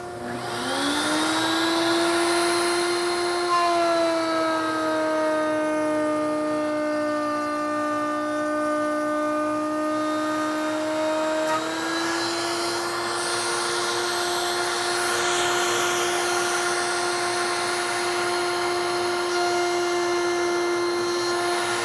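A router runs steadily as it cuts a groove in wood for a double dovetail joint, spinning up to a loud, sustained high whine, with the tone shifting slightly as the cut moves along the fence.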